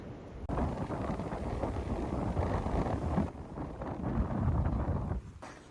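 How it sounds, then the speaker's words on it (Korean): Strong wind roars steadily across a winter ridge on Seoraksan mountain, a broad continuous rush that buffets the microphone, briefly dropping away near the start and again toward the end. "위에는 여전히 바람소리가 잉잉하지만 직접 몸에 부딪히는 바람은 없거든요"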